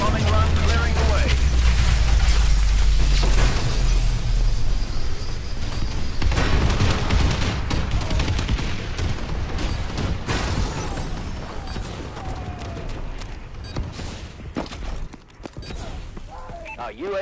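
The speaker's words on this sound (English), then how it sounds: "friendly bombing run clearing the way" Heavy bombing-run explosions from Call of Duty Advanced Warfare online multiplayer rumble loudly at the start, with deep booms fading into continuous battle noise and scattered impacts, while in-game announcer voices talk over the action.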